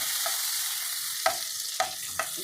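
Margarine and oil heat in a pan as the base for a gravy, giving a steady soft sizzle with a few sharp spoon taps against the pan near the end.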